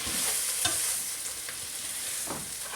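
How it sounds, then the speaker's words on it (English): Onions caramelizing over medium to high heat in a frying pan give off a steady, close sizzle, with a few soft stirring scrapes breaking through. "the onions are still caramelizing"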